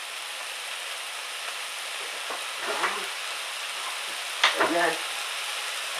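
Garlic, parsley and mushrooms sizzle softly in a pan, a steady frying hiss with a few stirring scrapes and clinks, while a voice speaks briefly.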